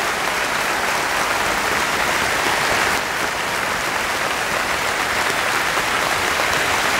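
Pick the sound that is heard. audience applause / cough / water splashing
audience applause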